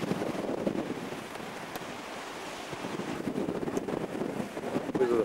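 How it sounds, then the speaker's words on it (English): Tidal water surging around a big boulder on a rocky outcropping at Fundy National Park, a steady washing rush of surf with wind buffeting the microphone, fairly loud and continuous. "it's where we watch the water coming around the big boulder"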